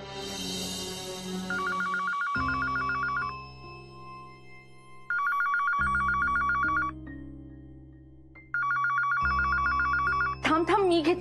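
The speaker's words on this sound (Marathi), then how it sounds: "थांब थांब, मी घेते फोन." A telephone rings in a Marathi TV drama scene, with three bursts of electronic trilling separated by pauses over background music.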